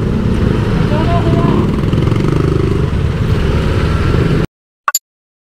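A small Honda Genio scooter engine hums steadily while riding through traffic, a continuous buzzing drone with wind rush that cuts off abruptly near the end, followed by a brief faint clatter.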